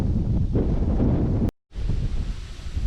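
Steady wind roaring over a canola field, a dense continuous rush buffeting close to the microphone, broken by a brief cut of silence midway.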